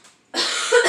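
A single harsh cough bursts out after a brief quiet moment, loud and close, from a sick person with a bad, persistent cough.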